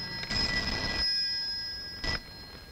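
A telephone rings in two short bright bursts separated by a pause, close and clear, with no talking.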